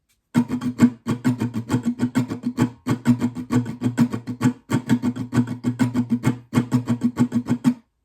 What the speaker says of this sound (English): we're going to start by adding some muted strumming